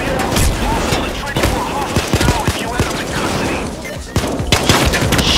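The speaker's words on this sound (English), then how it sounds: "Shooting." Gunfire in Payday 2 during a bank robbery, with dense bursts of rapid shots and booms crowding the whole stretch, loud and near, and voices mixed in beneath.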